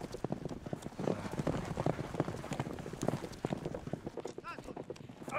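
Hooves of wild steppe horses clip-clop in quick irregular beats across the Central Asian grassland, a busy moderately loud patter under a narrator's voice and faint background noise.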